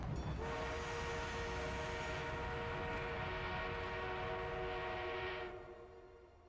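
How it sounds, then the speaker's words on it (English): An armored train in a World War I–era video game, heard as a steady, loud rumbling rail roar with a sustained horn-like tone that holds for about five seconds and then fades. "The enemy is being reinforced with an armored train."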